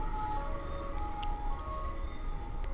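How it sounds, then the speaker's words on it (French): An ambulance siren wails steadily while an aeroplane passes overhead, producing a continuous, fairly loud blend of tonal siren and broad engine rumble with no voices. "il y a à la fois un avion et une ambulance qui passent au même moment où je parle avec vous"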